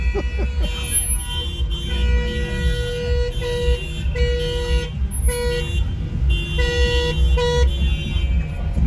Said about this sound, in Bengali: শুধু আজকের দিনটাতেই সবাই মজা করতেছে এবং গাড়ির হর্ন বাজাচ্ছে